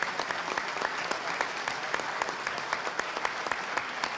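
An audience applauds at the close of a conference talk on social economy in a state congress hall, a dense, steady clapping that holds evenly throughout.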